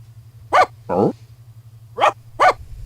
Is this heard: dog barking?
yes